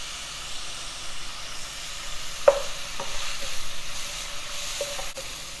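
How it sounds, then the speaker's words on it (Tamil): Sliced onions sauté in a pan with curry leaves for beetroot rice, a steady close sizzle and hiss with a few sharp clinks of a stirring spoon and no talk. "ஆனியன் நல்லா வதங்கணும்."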